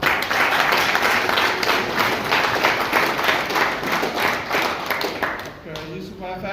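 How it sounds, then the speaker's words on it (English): An audience at a tertiary education ministry event gives a long, steady round of applause for a former Permanent Secretary, dense crowd clapping that holds throughout and eases slightly near the end. "can we give a big round of applause to our former Permanent Secretary, Dr. Yusuf Ture, here present."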